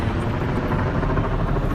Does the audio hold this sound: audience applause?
no